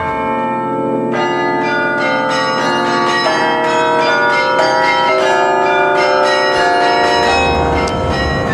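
Carillon bells ring out at the Mafra convent, played by a carillonneur, producing a dense, loud, continuous cascade of overlapping bell tones with struck notes in a steady melodic rhythm and no voices.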